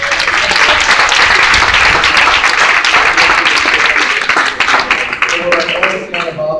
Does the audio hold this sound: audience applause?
yes